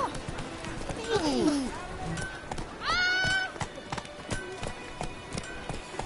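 Roach, a horse in The Witcher 3, gallops with quick clip-clop hoofbeats under a whinny and sliding vocal cries, close and fairly loud.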